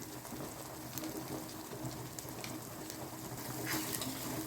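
Crab curry masala with turmeric, salt and chilli being fried and stirred in a pan, a soft, continuous sizzle with light crackles and occasional scraping, fairly quiet and steady.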